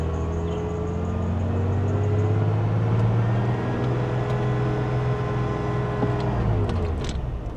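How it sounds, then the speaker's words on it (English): An old truck with a 300-horsepower Flathead 6 engine drives down a road. A steady, close engine drone runs throughout with gentle swells in pitch, and no talk is heard. "It's a Flathead 6 engine"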